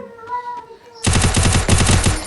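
Rapid automatic gunfire in a shooting video game bursts in suddenly after a quieter stretch and then rattles on loud and steady as a fast run of close shots.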